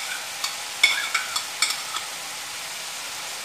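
Chicken frying in a pan as ginger paste goes in, a low steady sizzle broken by several sharp spoon-on-pan clinks and scrapes from stirring, close by and without voices.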